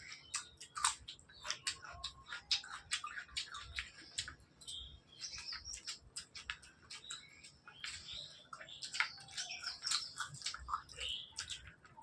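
Steady close-up chewing of fresh coriander leaves eaten with spicy mutton curry and rice, a busy run of wet, crunchy bites continuing throughout without talk.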